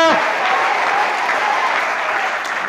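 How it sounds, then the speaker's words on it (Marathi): An audience claps steadily at a school event, a dense, loud wash of applause holding nearly level for the whole stretch with no voices over it. "ज्यानं खरोखर मनापासून टाळ्या वाजवल्यात हाताला झिंझिण्या झाल्या असतील"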